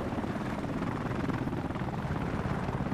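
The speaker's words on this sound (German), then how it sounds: "Schießen wir den Heli ab." A helicopter flies overhead in the video game Battlefield Play4Free, giving a steady, thick whirring rotor drone at moderate volume that holds for the whole stretch without any speech.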